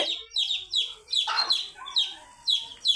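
A hen clucks low among a brood of newly hatched chicks, whose rapid, high peeping repeats in quick bursts throughout, close and fairly loud.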